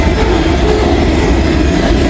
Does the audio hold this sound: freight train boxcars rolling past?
yes